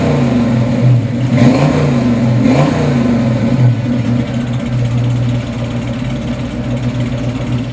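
A 1968 Ford Shelby GT350 convertible's engine rumbles low and loud while driving at highway speed, with a couple of brief revs rising early before it settles into a steady drone.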